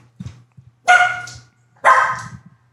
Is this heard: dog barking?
yes